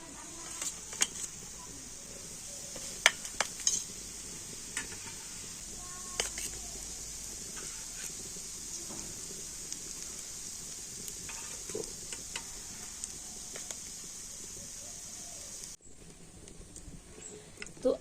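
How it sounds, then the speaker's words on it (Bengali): Monakka snacks fry in oil in small batches, a soft steady bubbling sizzle with scattered small pops and clicks, fairly quiet and continuous with a brief dip near the end, no one speaking. "এরকম একটু অল্প অল্প করে মোনাক্কাগুলো ভেজে নিতে হবে।"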